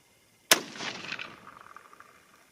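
A single loud .243 Winchester rifle shot with a 70-grain bullet, a sharp crack followed by a long rolling outdoor echo that fades over two seconds.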